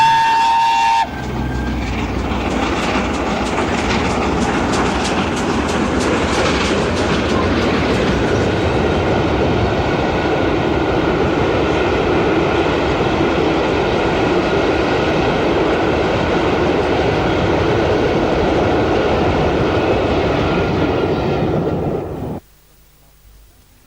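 LNER steam locomotive Mallard pulls out of York station, a loud, steady rumble of train wagons and rail noise lasting about twenty seconds, with a brief whistle-like tone at the start, before cutting off sharply.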